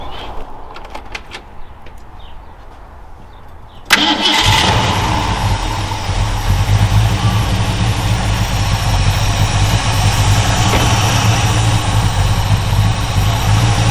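A car engine with a Holley carburetor cranks briefly and catches, then settles into a loud, steady idle that runs without a break for the rest of the stretch.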